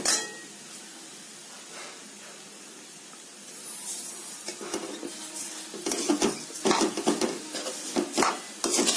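Sugar stirred into ghee-fried beetroot for halwa, quiet at first, then a burst of scraping and metallic clinks as a spoon works around the pan, with a soft sizzling hiss underneath.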